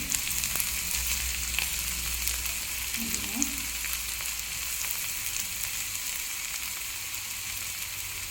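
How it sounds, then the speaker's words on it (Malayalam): Green beans for a Kerala-style mezhukkupuratti stir-fry frying in a pan: a steady, dense sizzle runs throughout, with brief soft scrapes of stirring partway through and no talking. "ഇതൊന്ന് ഇളക്കി കൊടുക്കാം"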